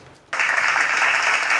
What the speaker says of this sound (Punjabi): ਇਸੇ ਗੱਲ ਤੇ ਦਰਸ਼ਕੋ ਸਾਰੇ ਤਾਲੀਆਂ ਮਾਰ ਦਿਓ।